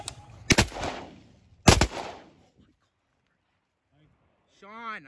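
Two loud shotgun blasts about a second apart during a duck hunt on the water, each ringing out and fading, followed by quiet and a brief voice at the end.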